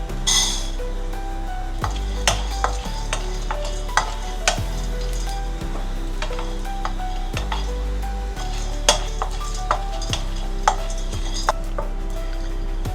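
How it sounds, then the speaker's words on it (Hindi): Pumpkin seeds rattle and skitter in a dry pan as they are roasted and stirred, with repeated scraping and occasional sharp clicks, close up. "तो सबसे पहले हम रोस्ट करेंगे पम्पकिन सीड है"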